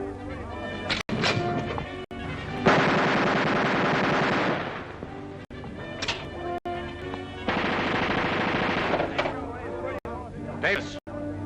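Bursts of sustained automatic gunfire, two long rattling strings with single sharp shots between them, loud and close, with a voice briefly heard.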